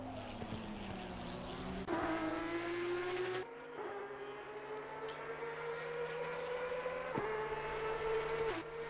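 A Porsche Cup race car engine in a sim racing game, a droning high-revving note that climbs through gears with brief lifts and shifts, steady and continuous across the lap.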